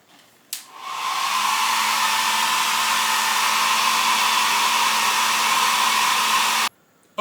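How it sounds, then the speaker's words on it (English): A hair dryer blows steadily on freshly painted wine glass, switching on with a sharp click, running loud and even with a constant hum for about six seconds, then cutting off abruptly. "let me give this a moment to dry, or some hair dryer time"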